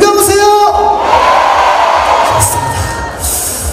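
At the closing ceremony of the 38th Geumsan Ginseng Festival, a big outdoor audience cheers and shouts in a sustained loud roar, with whoops and high voices swelling near the start and easing slightly toward the end.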